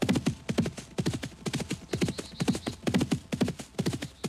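Horse hooves clip-clop at a steady walking rhythm in the video game DayZ. The hoofbeats are crisp and evenly paced, clear and close throughout, with no voices.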